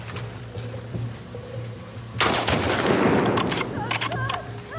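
Bursts of rapid gunfire from the game The Last of Us Part II erupt partway through, loud and dense after a quieter stretch of ambient game sound.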